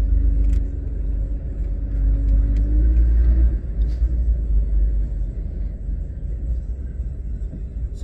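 A car drives through heavy traffic toward Jakarta, with a steady, loud low engine and road rumble from inside the vehicle, a faint tone fading early and a few light knocks.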